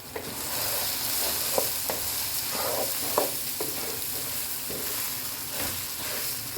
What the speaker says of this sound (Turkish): böyle karıştırarak e, cehriyelerimi biraz kızartıyorum.